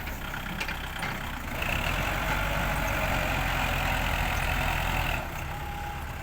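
A tractor engine runs steadily while pushing soil near a dumped load, a continuous heavy low rumble with a slight rise in strain partway through, close and loud with no talk.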